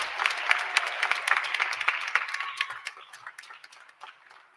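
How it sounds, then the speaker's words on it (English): Applause fills a health sciences graduation ceremony as EMT, paramedic and nursing assistant graduates stand, a brisk burst of many hands clapping that thins out over a few seconds into scattered claps. "Let's give them a round of applause for their accomplishments."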